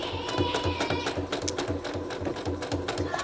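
Sewing machine running a straight stitch through fabric and over pins, a steady fast mechanical chatter of evenly spaced needle strokes, close and continuous, with no talking.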